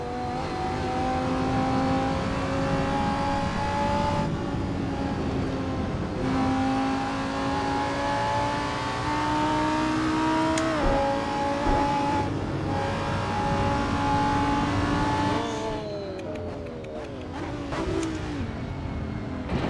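GT3 race car engines in the Assetto Corsa racing game drone steadily, pitch climbing through each gear with brief shift drops, several cars close together, loud and continuous with no talk.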